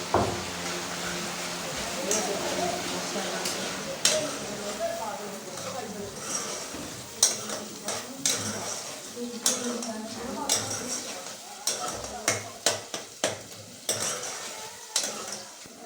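Onions frying in a pot with ginger-garlic paste, stirred with a spoon that scrapes and clinks against the metal over a steady sizzle, while someone talks throughout.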